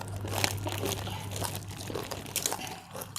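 Spicy taro chips crunched while eating, with crisp, repeated close-up bites and crinkling of a snack bag over a low steady hum.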